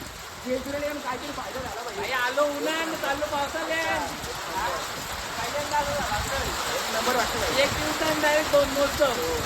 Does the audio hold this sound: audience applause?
no